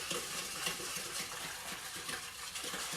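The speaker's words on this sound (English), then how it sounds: "we're going to mix this up until the salt and sugar's dissolved" Sushi rice seasoning of vinegar, salt and sugar is stirred in a bowl, a soft continuous swishing and light scraping at low volume with no voices.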